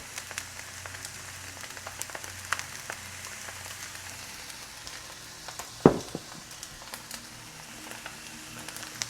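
Rice frying in a pan with soy sauce, a faint, steady sizzle with scattered crackles and one sharp clatter midway, fairly quiet throughout.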